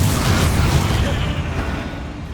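A Confringo spell explosion in Hogwarts Legacy lands as a loud, close burst with a rumbling boom that decays over about two seconds.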